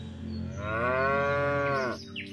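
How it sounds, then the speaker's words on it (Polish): A single cow lets out one long, loud moo that swells and then falls away, heard alone with no voices, used as a sound effect in an audiobook. "Woła krowa."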